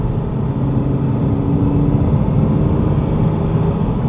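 Ford Mondeo ST220 from a restoration project, driven with its engine limited to 3,000 rpm: a loud, steady mid-range engine drone with road rumble from inside the car, holding an even note throughout with no speech.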